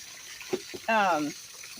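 A brief gush of water splashes out while rinsing emptied plant pots that were sprayed with a diluted bleach mixture, a short close burst after a few faint knocks.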